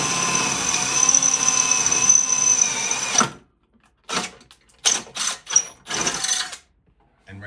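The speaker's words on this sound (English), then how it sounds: "directly underneath the bolt holes where he's drilling" Drill boring bolt holes through an ATV skid plate, a continuous whining run of about three seconds followed by several short, sharp bursts of drilling.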